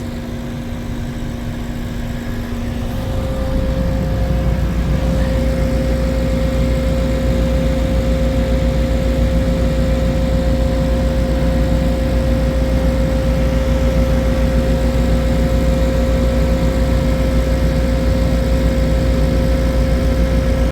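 A tractor engine runs steadily after starting, a loud continuous idle with a deep, even drone that holds unchanged from start to finish, with no voices over it.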